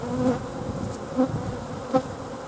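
Honeybees at an opened, disturbed hive buzz steadily in a close, low drone, with a few brief louder swells as individual bees pass near.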